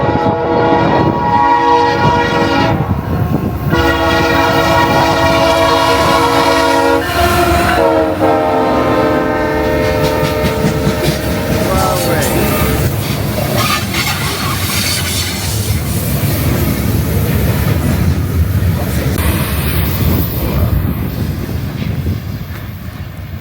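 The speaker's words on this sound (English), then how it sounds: "we most certainly did hear the trains" A train passes close to a stop in mainland Mexico in the early morning. Long, loud horn blasts come first, followed by the steady heavy rumble and rattle of rail cars rolling by.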